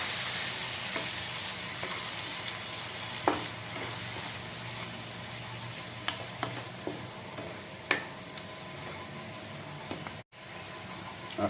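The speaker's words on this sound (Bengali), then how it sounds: "মশলাটা একবার ভালো মতো মিক্স করে নেব।" Egg curry spice masala being stirred in a pan, Bihari style, with a little water added: a continuous bright sizzle overlaid with scattered scraping clicks and taps from the spoon, fairly quiet and steady throughout.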